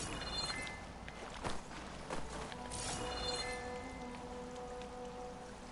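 Waterfall in the video game Horizon Forbidden West, a steady broadband rush of falling water with splashy crackle throughout, moderately loud and continuous with a few sharper transients.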